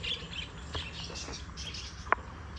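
Small birds at Raiganj's Kulik bird sanctuary give faint, scattered chirps and tweets while feeding, with one sharper call standing out near the end.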